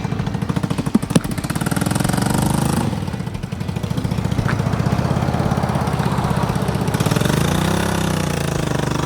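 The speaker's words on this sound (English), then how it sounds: "There goes the world's loudest Yamaha." A Yamaha motorcycle with its muffler cut off roars past loud and close along a road near Martinsville, Virginia, its raw engine note holding steady and then shifting as it goes by.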